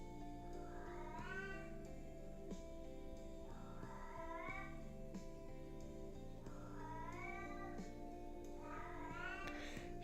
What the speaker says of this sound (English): It's my cat's feeding time, so she's letting us know.